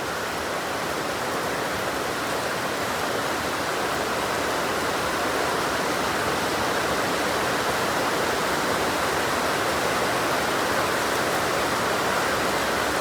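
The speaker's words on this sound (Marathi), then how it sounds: "आणि आज पाऊस पडते बघा." Constant hiss of steady rain falling, even and unbroken for the whole stretch, with no voices over it.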